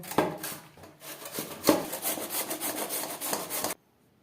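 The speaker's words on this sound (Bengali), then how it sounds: "এবার একটা গেটার দিয়ে গ্রেট করে নেব" Radish pieces are rubbed against a hand grater in repeated rasping strokes, a close, scratchy scraping rhythm that runs for a few seconds and then stops abruptly into silence.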